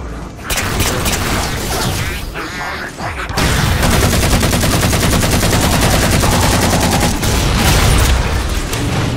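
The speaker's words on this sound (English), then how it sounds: "Explosions everywhere." Gunfire and explosions from the Halo 4 video game: loud, dense automatic fire rattling continuously, with heavy booms and a sharp cut into an even more intense barrage partway through.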